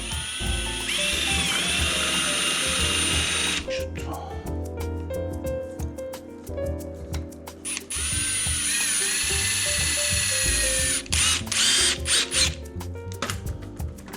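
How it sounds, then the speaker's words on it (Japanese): A power driver sets screws to lock a piece in place where broken plastic gave way, whirring in long sustained bursts with ratcheting clicks and a pause between, close and loud. "もうこのね長さで ビス止めしてロックしていきたいと思います。"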